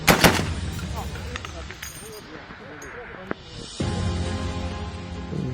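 A sharp gunshot cracks at the start with a brief rattling burst, followed by softer noise and a muffled thump, with a voice speaking over it.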